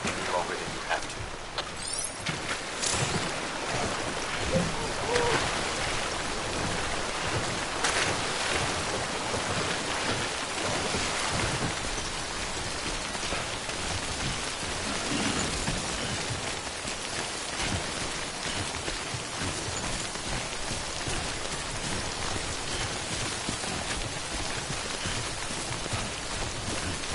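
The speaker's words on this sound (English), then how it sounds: "Don't stay out in the rain any longer than you have to." Timefall rain pours steadily across a PS4 video game landscape, a dense continuous hiss of drops on surfaces lasting throughout, loud and even with no break.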